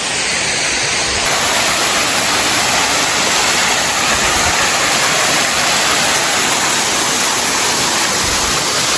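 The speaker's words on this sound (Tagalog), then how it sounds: "hindi po ngayon masyadong kalakasan yung lagaslas ng tubig" Rushing water of Bocaocao Falls in barangay Bubong Palali, Tayabas City, a steady loud broadband roar that fills the whole stretch without pause, close to the falls.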